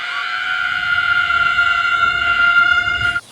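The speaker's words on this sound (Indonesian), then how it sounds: "Ibu juragan yang kesal atas itu tiba-tiba berteriak dengan kencang." A woman in the film Kung Fu Hustle lets out a loud, sustained high-pitched scream lasting about three seconds before cutting off abruptly.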